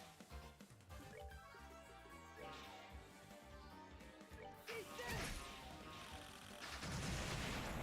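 Smoke missiles firing in the video game Trails in the Sky the Third: loud game-audio bursts, crashes and whooshing blasts layered over busy music, with a heavy impact near the middle and a dense rush of noise toward the end.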